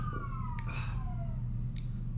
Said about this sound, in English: There was a police siren.